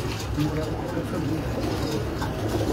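Breeder pigeons, including a Lal Pari, coo in low, continuous murmurs on a rooftop loft in Gujranwala, blended into a dense steady background.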